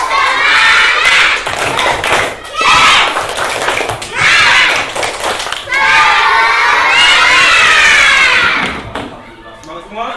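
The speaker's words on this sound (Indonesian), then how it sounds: "kita sebelum belajar mari kita tepuk semangat" A group of children in a classroom shout a loud rhythmic spirit chant in bursts, with claps and cheers between the lines, energetic and close.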